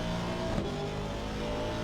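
A GT3 race car engine in a racing game at Donington Park, with a steady, loud drone as the car runs deep into a corner, loses the rear and fights turbo lag.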